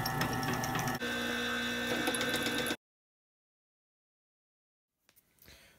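Wood lathe drilling a tobacco pipe blank: about three seconds of steady, loud mechanical whirring with rattling, then a cut to silence and a few faint knocks and rustles.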